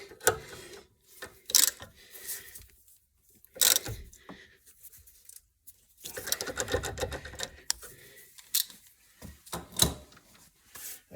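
A ratchet clicks in short bursts as the rear brake bolts on a Rover 75 are tightened, quick mechanical ratcheting sounds that alternate with quiet gaps and faint handling noise.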